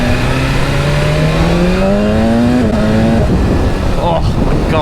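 A 210 hp BMW S1000RR sport bike accelerates hard, its engine note climbing steadily through the gear loud and near, with wind rush throughout and a brief shift before revving on.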